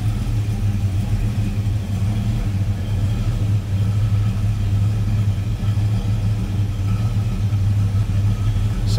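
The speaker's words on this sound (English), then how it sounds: "Slip around to the back so you can hear it on the lower idle." A 1970 Plymouth Road Runner's engine idles steadily and loudly at low revs, a deep continuous rumble with an even pulse and no talking.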